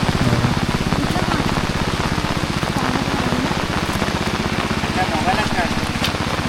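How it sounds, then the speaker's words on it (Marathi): Steady rain falls over farm fields in the Konkan countryside during ploughing, a dense continuous hiss of drops with a low engine-like hum beneath, close and loud throughout. "पावसाला पण सुरुवात झाली आहे."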